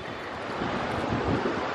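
Wind buffets an outdoor microphone in a steady, loud low rumble that swells slightly toward the end, with no voices over it.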